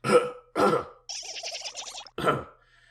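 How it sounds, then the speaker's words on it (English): Two short gruff bursts, then a raspy rattling throat sound, then one more burst; close and fairly quiet with pauses between. "Excuse me, I just had to clear my throat."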